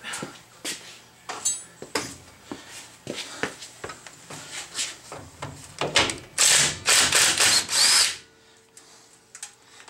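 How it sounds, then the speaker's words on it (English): Truck brake kit installation on the spindle, with a tool repeatedly clicking and rattling on nylock nuts, then a louder run of rapid, close buzzing bursts that stops abruptly, leaving a faint hum. "the top ones here have Nylocks on, so let's grab a wrench for that"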